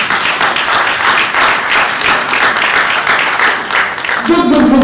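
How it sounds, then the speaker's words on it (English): A conference audience in Sierra Leone, gathered for a diaspora agribusiness event, gives loud, sustained applause. The dense clapping runs steadily throughout, with a brief voice at the end. "Let's applaud her."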